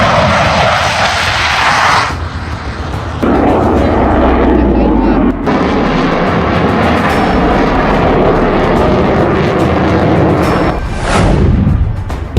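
Rafale fighter jet flying overhead, a loud sustained broadband engine roar that shifts and surges across the pass, mixed with news-style background sound.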